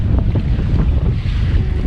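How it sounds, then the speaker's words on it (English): Wind rushing over a sailboat under sail on a lake, a loud continuous low buffeting roar with wind noise hitting the microphone, no talk. "We are not burning any fuel, just the wind and the sails"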